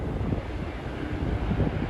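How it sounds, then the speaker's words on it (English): Strong wind at Schiphol airport buffeting the microphone, a constant low rumbling roar with gusty flutter, close and continuous. "It's very windy out today."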